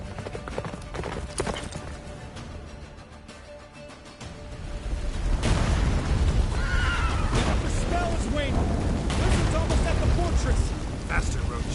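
Roach, the horse in The Witcher 3: Wild Hunt, gallops during the battle of Kaer Morhen, with rhythmic hoofbeats swelling louder midway, neighs, battle rumble and explosions, and voices speaking over it.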